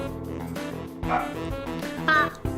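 A small dog barks and yips in a few short bursts indoors, close and fairly loud, with whimpering tones between the barks.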